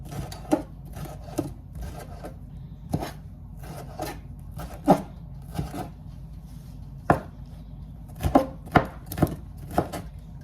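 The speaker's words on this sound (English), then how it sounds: "So we're going to chop these up, do a quick saute to get them a little caramelized." Fresh tomatoes being chopped with a knife on a cutting board, a series of sharp, close knocks in uneven bursts with short pauses between runs, no talking.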